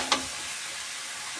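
Food frying in a pan with salt and turmeric powder stirred in: a soft, steady sizzle with one short scrape of the stirring spoon near the start, close by.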